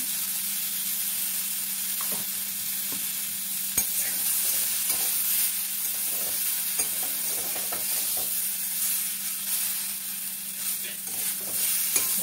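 Star fruit pickle with Kashmiri chili powder sizzles steadily in a pan while a utensil scrapes and stirs it in scattered strokes; close, moderately loud, with no talk.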